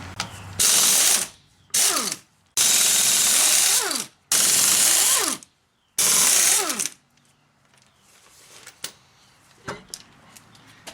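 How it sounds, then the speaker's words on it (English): Ratchet or impact gun spinning the lug nuts off the wheel of a 2002 Mitsubishi Lancer during a tie rod job: loud, close whirring bursts with short pauses between, then quieter clinks and clatter as the nuts and wheel come free. "We're going to start things off by removing the wheel."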